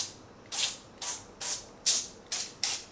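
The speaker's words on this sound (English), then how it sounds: "I'm going to spray this again just a little bit." Oil sprayed over cauliflower tater tots in short hissing bursts, six quick sprays in a steady rhythm, close and clear with quiet gaps between.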